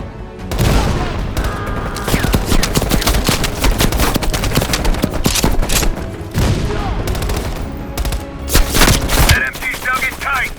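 Sustained machine-gun fire from a dug-in MG position in the Call of Duty: Black Ops Cold War video game, dense rapid bursts with booming impacts running nearly continuously and loud, with brief pauses around the middle.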